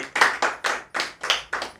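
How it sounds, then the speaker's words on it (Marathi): An audience claps together in a steady, even rhythm, about seven loud, close claps in under two seconds. "जोरदार टाळ्या वाजवा इथल्या प्रेक्षकांना"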